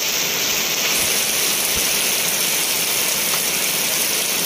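Steady rain during the Malaysian rainy season, falling behind a house near chili plants and a durian tree, a continuous broadband hiss with no voices.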